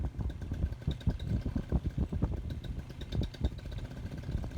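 A Moster 185 paramotor engine runs at quarter throttle close by, a steady pulsing buzz with small rhythmic surges throughout.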